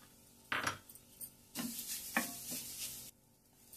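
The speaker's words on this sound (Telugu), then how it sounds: "మనం మళ్ళీ కొబ్బరి కూడా కొద్దిగా పచ్చివాసన పోయేదాకా వేపుతాం" Grated coconut stirred and roasted in a pan while making coconut burfi: a few intermittent bursts of scraping and soft sizzling, close by, with quiet gaps between strokes.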